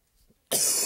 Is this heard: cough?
yes